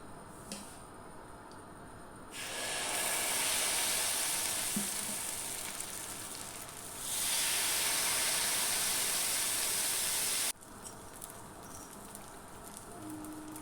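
Sui pole, traditional Marathi pancakes, roasting on a hot pan with a steady sizzle that swells loudly in two long bursts, then drops back to a quiet hiss.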